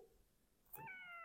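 Domestic cat giving a single short meow, faint and fairly close, preceded by quiet room tone with no talking.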